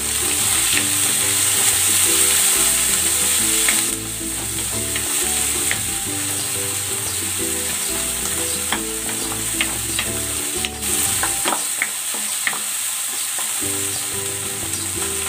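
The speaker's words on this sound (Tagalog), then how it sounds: "Igisa na rin natin tong sibuyas. At ang kamatis." Onions and tomatoes sauté in a pan with a steady, close sizzle, broken by occasional stirring scrapes and clatters as the pan is worked.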